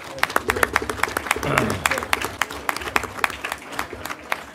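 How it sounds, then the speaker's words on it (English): A city council meeting audience claps for parents, steady and fairly close, with sharp individual hand claps forming a dense patter, while a voice speaks over the opening seconds. "I would like to give a special clap to all of our parents that made it tonight"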